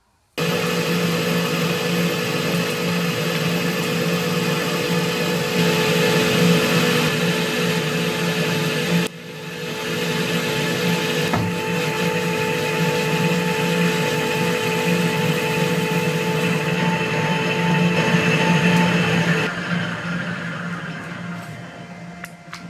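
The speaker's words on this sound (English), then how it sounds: "Let's get it flipped over and we'll start doing the machining details on this side." A Colchester lathe machines a clutch plate, giving a steady motor hum with a persistent tonal whine. It briefly dips around the middle and trails off near the end, with no talking.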